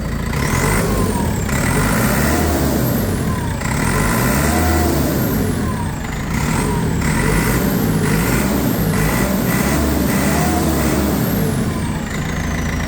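A loud turbo diesel engine with new injectors and pump revs up and down repeatedly, nearby, with rising and falling whine and brief dips between revs.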